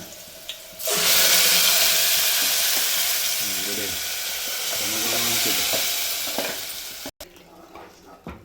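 Ground masala paste frying hard in oil in a pan for a village-style fish curry, a loud steady sizzle that starts abruptly and holds, with brief faint voice sounds under it and a short clatter near the end.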